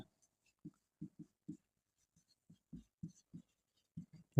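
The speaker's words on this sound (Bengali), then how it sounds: "সমাধান এই কথাটা লেখার পরে আমরা লিখব দেওয়া আছে" Chalk or marker strokes tap and scratch as a solution is written on a board, a series of short, distinct marks in an irregular rhythm, fairly quiet and close.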